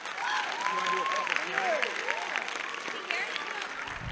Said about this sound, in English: how about a round of applause for those answers?